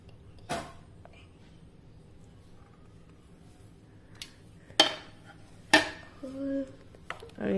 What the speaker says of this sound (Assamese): নাৰিকল তেল এনেকৈ মিলাই দিছোঁ।